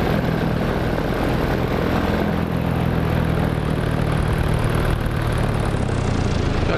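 A small aircraft engine drones loudly and steadily near the tower as the plane loses altitude, a constant close roar with no talking over it.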